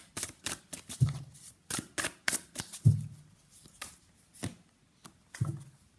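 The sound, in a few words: tarot cards being shuffled and pulled from the deck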